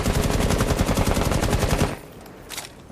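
Automatic gun in a video game spraying a long continuous burst of rapid, evenly spaced shots, loud and close, stopping abruptly and followed by a brief faint clatter.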